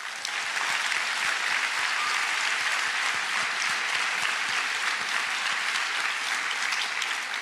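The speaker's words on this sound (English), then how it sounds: "Let's clap it up for that." An audience at a middle school eighth grade promotion ceremony applauds with sustained, even clapping from many hands, steady and fairly distant throughout.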